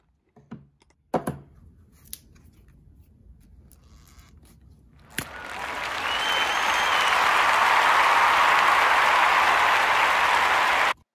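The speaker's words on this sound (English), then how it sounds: "The applause were only slightly necessary." Applause sound effect: sustained clapping from a crowd swells up and holds loud and steady for several seconds, preceded by a few soft taps and clicks.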